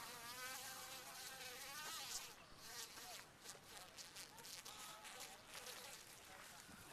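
A bee trapped in a spider web in a canyon rainforest gives a loud, continuous buzzing whine that wavers in pitch, close to the listener, alone.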